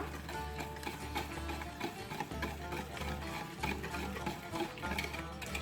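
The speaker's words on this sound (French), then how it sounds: "Mélangez bien." Fanouropita batter, with sugar just added, is stirred in a bowl, a soft steady scraping rhythm at low volume with faint music playing behind.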